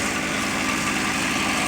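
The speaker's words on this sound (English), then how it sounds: "now I'm going to leave the key on. Engine running." The small engine of a homemade car camper, the Cavacruiser, idles with the key on, a steady, close, unbroken buzzing hum with a fine rapid pulse and no speech over it.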